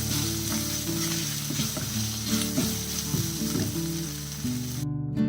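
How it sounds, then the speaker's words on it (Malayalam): Small red onions sizzle steadily in oil for an eggplant curry, with a bright continuous frying hiss and occasional spatula scrapes nearby before the sound cuts off abruptly at the end. "അപ്പൊ നമ്മുടെ ചുവന്ന ഉള്ളി നല്ലതായിട്ടൊന്ന് വഴറ്റിയെടുക്കണം."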